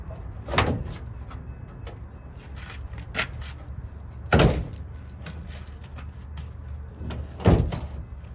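A 1987 Chevrolet Camaro Z28 door latch, still locked, clunks and rattles several times at uneven intervals, with three louder metallic thuds among smaller clicks.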